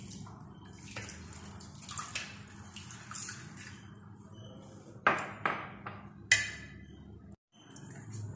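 A little water is poured while chicken is being prepared in a kitchen, a steady running trickle followed by several sharp clinks and taps.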